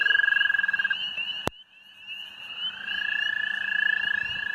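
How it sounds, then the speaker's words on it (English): An American toad gives a long, steady high trill at dusk in early spring, close and loud, broken by a sharp click and a brief pause before the trill resumes among fainter frog calls. "I just spotted another American toad here"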